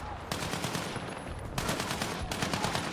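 Rapid automatic gunfire in Battlefield 6 multiplayer, dense bursts of shots rattling continuously with a sharper, louder volley starting midway, no talk over it.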